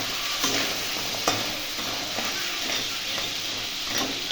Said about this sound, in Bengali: এবার কাঁকড়াগুলোকে একটু ভালো করে ভেজে নেবো।